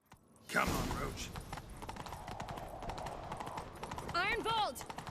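Geralt's horse Roach gallops in The Witcher 3, quick rhythmic hoofbeats rolling close and steady after a sudden start, with a horse's whinny rising near the end.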